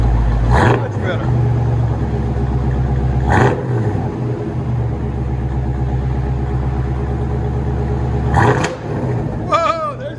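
A 1984 Chevy Corvette 5.7L V8 with Flowmaster true dual exhaust and high-flow cats idles with a deep, loud, close rumble, broken by three sharp throttle blips spaced several seconds apart, with voices briefly heard near the end.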